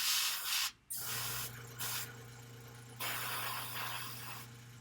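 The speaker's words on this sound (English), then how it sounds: "I'm just spraying like the ridges, a little bit in the front there." An airbrush sprays paint onto the raised ridges and front of a Dark Eldar Venom miniature, giving a steady close hiss in bursts with short pauses, alongside a constant low hum.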